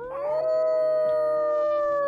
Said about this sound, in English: We'll howl at them.